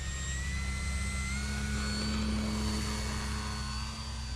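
An E-flite Night Timber X radio-controlled airplane takes off, its electric motor and propeller giving a steady, even whine with a constant drone and no rise or fade, heard alone without voices.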